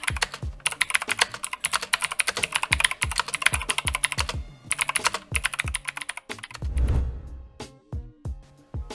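Rapid clicky keystrokes on a wireless gaming keyboard, typed in quick uneven bursts with a few brief pauses and a heavier thump near the end.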